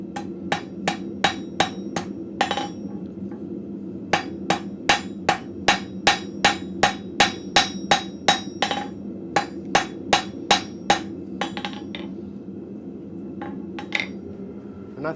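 A blacksmith forging an arrowhead strikes it on an anvil with a long series of sharp, ringing hammer blows in quick rhythmic bursts, close and loud over a low background hum, pausing briefly between runs.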